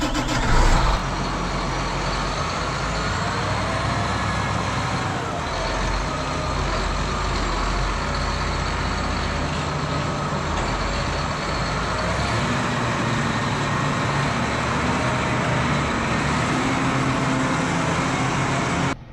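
A tractor engine idles steadily at about 1,500 RPM, a constant low diesel drone with a rich rumbling hum that holds unchanged throughout, close by and loud with no talk over it.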